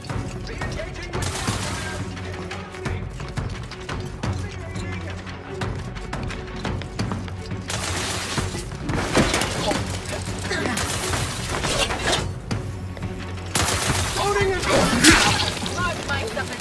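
Gunfire from weapons in the sci-fi video game The Outer Worlds 2, bursts of shots and impacts clustered in several loud stretches over a steady game soundtrack, with occasional voices talking.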